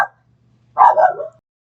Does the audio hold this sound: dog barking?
yes